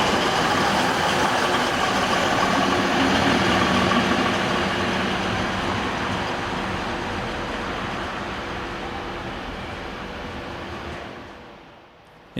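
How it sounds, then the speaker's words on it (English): Alex train 84155 runs into Immenstadt behind diesel locomotive 223071, a loud, sustained engine rumble and rolling noise that slowly fades as the train slows, then cuts off. "Alex train 84155, the 1758 from Lindau to München, arrives behind 223071"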